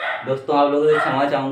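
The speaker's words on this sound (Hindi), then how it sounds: "कुत्ता बहुत भयंकर भौंक रहा है" A neighbourhood dog barks loudly and fiercely nearby, a few yelping barks running under and between a man's steady speech.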